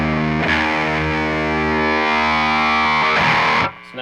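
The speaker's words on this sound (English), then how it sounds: "I can get more of the HM2 sound." An electric guitar driven through a DAPHON Heavy Metal E20MT HM2-clone distortion pedal rings out in a thick, buzzing sustained chord, re-struck once near the end before cutting off; loud, with no talk.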